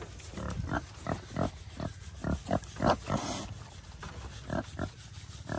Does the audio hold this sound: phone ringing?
no